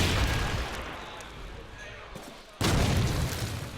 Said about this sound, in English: That comes a grenade frag